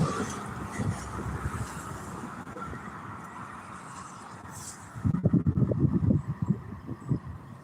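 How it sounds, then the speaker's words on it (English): A low, steady rumble of a slow Norfolk Southern freight train rolling past in Detroit, with rhythmic heavy clunking of wheels swelling louder toward the end. "that is a slow-moving train coming there"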